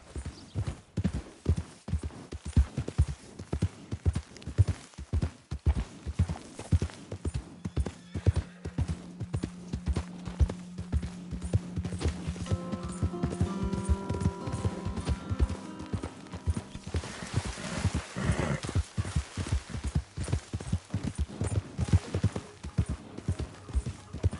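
Steady rhythmic clip-clop of horse hooves at a trot in the video game Red Dead Redemption 2, continuing throughout, with a horse whinnying partway through.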